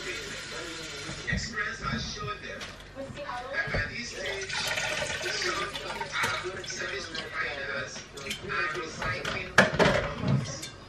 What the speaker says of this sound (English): I'm just putting water.